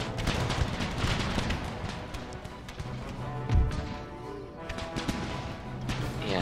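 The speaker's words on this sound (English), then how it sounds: "I love the new musket sound." Musket volley fire from a sound-modded Empire: Total War battle, a dense crackle of many shots rolling continuously with one heavier thump midway, no speech.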